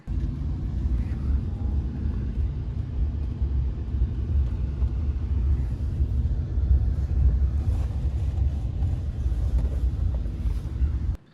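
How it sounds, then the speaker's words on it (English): A car engine runs steadily with a heavy low rumble close by for about eleven seconds, then cuts off abruptly at the end. "starting the car"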